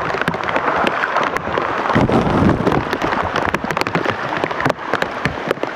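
Steady light drizzle falling during a lull after heavy rain in flooded Cikunir, beside a toll road embankment and drainage channels, a dense continuous patter close to the microphone with no talk.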